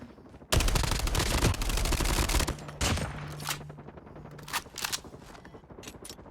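Assault rifle fire in a video game comes as a loud, dense burst of rapid automatic shots for about two seconds, then scattered shorter bursts and single cracks follow over quieter game sounds.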